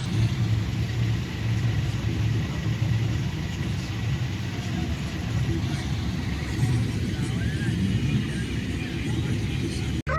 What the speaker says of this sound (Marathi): सगळे रॉंग साईड आणि फुल ऑन ट्रॅफिक जॅम.